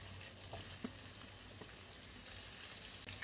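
Spice paste sizzles in oil in a pan alongside fried rohu fish, a continuous close crackle with a few soft stirring clicks, fairly quiet overall.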